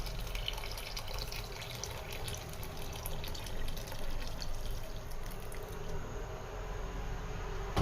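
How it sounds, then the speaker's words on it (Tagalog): Water runs steadily into a cooking pot of pork spare ribs for Bicol-style sinigang, a continuous moderate pouring wash with no talk. "Add some water."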